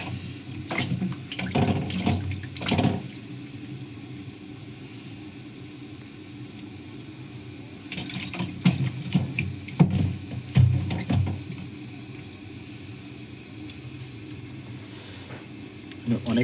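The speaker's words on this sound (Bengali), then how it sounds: "আমি কিন্তু আলু কটা একটু ভালো করে ধুয়ে নেব।" Potatoes are washed under a running kitchen tap, with bursts of splashing and gushing water at the start and again in the middle, separated by a quieter stretch with low background noise.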